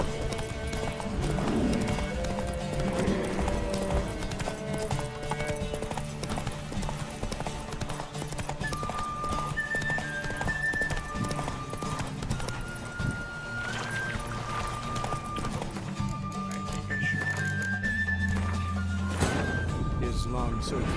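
A horse gallops in The Witcher 3 video game, with rapid rhythmic hoofbeats running under music and game sounds, and a whinny and a voice heard along the way.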